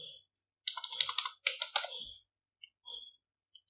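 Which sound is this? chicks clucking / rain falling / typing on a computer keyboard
typing on a computer keyboard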